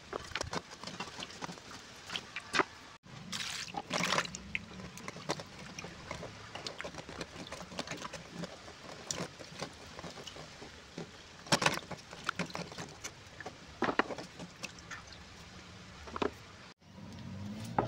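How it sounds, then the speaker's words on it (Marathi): Kateklag tubers being washed by hand in water to loosen the soil, with repeated splashing, sloshing and patter throughout, close and moderately loud, with a few sharper splashes. "चांगली धुवून घ्यायची, त्याची माती निघेपर्यंत."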